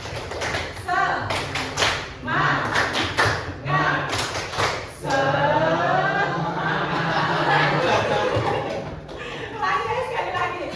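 Classroom students clapping the tepuk semangat chant, bursts of rhythmic group claps alternating with shouted chanting voices, loud and close, then a stretch of excited chatter and talking.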